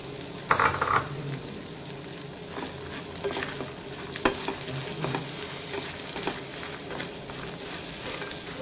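Grated coconut sizzles and fries in a pan for thogayal while a spoon stirs it with intermittent scraping strokes, a steady close sizzle with no talking.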